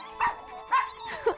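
Cartoon puppies give three short, bright barks about half a second apart, the last one a higher yip, with no talking over them.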